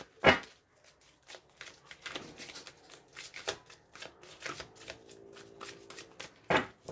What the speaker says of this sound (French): On va faire une coupe, je vais garder un petit peu les cartes en dessous